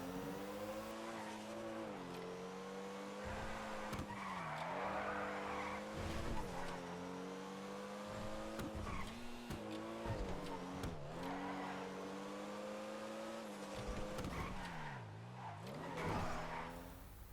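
The Vista Comet and Comet Retro Custom, Porsche 911-based cars in GTA V, drive at close range with engine revs rising and dipping through gear changes, and brief tire squeals.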